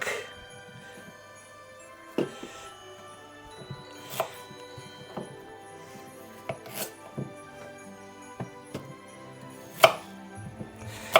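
Knife slicing the ends off washed, peeled carrots on a cutting board, a few sharp, separate chops spaced out over quiet kitchen background.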